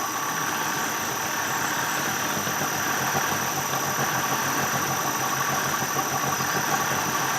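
Steady engine drone from a motor spinning an asynchronous generator that feeds power to the grid, running continuously at a fairly loud, even level with a constant whine and no voices.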